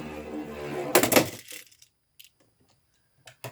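A heavy Beyblade X attack-type top with a flat bit is launched into a stadium after a voice, producing a sharp clattering burst followed by scattered small clicks and taps as it skitters around.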